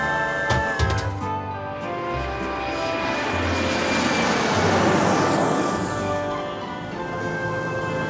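A cartoon airplane engine roars, swelling louder as the aircraft powers up for takeoff, then gradually fading slightly toward the end.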